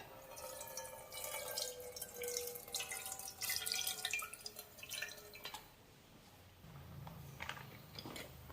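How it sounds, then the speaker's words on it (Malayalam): Soaked tamarind water is poured from one vessel into a cooking pot for ghee rasam, making a steady splashing, trickling stream for about five seconds before tapering off to quieter kitchen background. "ഇനി ആ വെള്ളം നമുക്ക് ഈ പാത്രത്തിലേക്ക് ഒഴിച്ചു കൊടുക്കാം."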